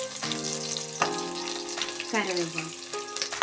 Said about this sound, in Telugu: ఉల్లిపాయలు, ఆవాలు, జీలకర్ర వేసుకున్నాను.